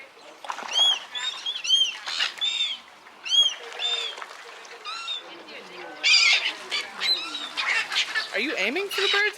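Birds squawk and call in overlapping bursts, loud and close at a high country salmon farm in New Zealand's South Island, with wing flapping not clearly distinguishable.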